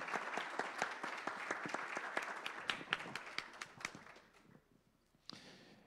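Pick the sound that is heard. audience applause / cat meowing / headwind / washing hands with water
audience applause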